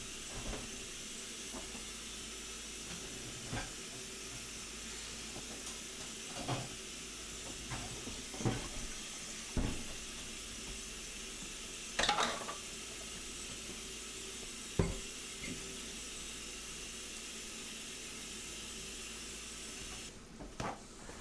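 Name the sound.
kitchen tap water running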